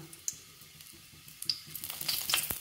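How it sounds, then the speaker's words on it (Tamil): Asafoetida and urad dal sizzle in hot oil in a pan, a bright crackling fry that swells louder toward the end with sharp pops, no voices. "பாத்திரத்தில் எண்ணெய் காய வச்சுட்டு முதல்ல பெருங்காய தொண்டத்தை போட்டுக்குவோம் பெருங்காயம் பொரியட்டும்"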